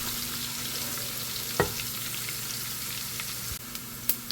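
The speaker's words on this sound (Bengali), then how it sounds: "আম জলপাই ঢেলে দিব।" Mango and jalpai (Indian olive) hit hot oil with five-spice seeds in a pan for pickle, giving a steady close sizzle with a couple of sharp clinks from the utensil.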